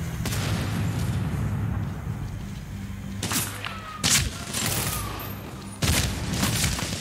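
Distant bursts of gunfire in Medal of Honor: Warfighter crack out in a few sharp volleys over a steady low rumble, with no talking.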